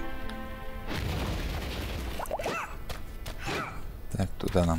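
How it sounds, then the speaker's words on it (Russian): An explosion goes off in the video game Alchemist Adventure, a broad noisy burst near the start that rolls on for several seconds, with smaller pops and crackles following and some brief vocal sounds late. "Так, взрывается."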